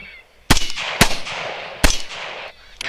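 Sharp, loud rifle-like reports crack out during a Missouri coyote hunt, three separate blasts spaced about half a second and then nearly a second apart, each trailing a brief outdoor echo.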